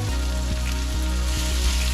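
Butter sizzles in a hot pan with collard greens, a steady broadband frying hiss with faint crackles throughout, close and even, with no talking.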